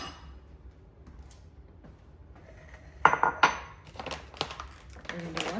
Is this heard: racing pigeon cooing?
no